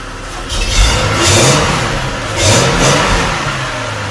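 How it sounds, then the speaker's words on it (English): Ute engine, stripped of its seats, revved twice in quick bursts, each swelling loud and dropping back to idle, close by with no talking. "Let's give it a bit of a rev."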